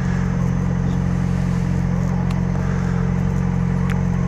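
A Yamaha XJ6 motorcycle engine runs steadily nearby, a loud continuous low hum with a mid-range rumble and no clear revving peaks.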